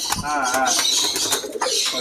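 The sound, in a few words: racing pigeons cooing at bird farm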